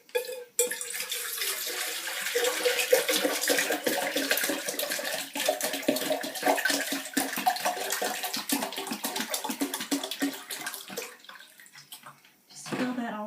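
Plain water runs steadily into an enema container, splashing and rising for several seconds before cutting off, with a brief gurgle at the end.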